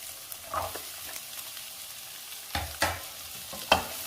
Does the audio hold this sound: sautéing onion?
yes